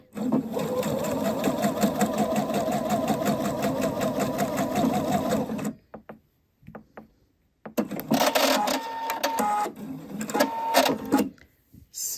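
Sewing machine stitching the ends of a cuff onto a shirt sleeve, a long close run of rapid mechanical chatter, a brief silent pause, then a second shorter burst of stitching.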